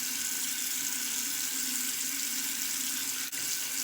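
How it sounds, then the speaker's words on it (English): A bathroom tap runs steadily while a face cloth is wetted beneath it, a loud, constant rushing stream of water that broken only once by a brief dip near the end. "Wetting a cloth, just a face cloth"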